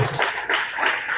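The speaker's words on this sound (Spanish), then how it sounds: "Aplaudan a Cristo." A church congregation claps during a worship service, a brief, dense patter of many hands that continues evenly throughout.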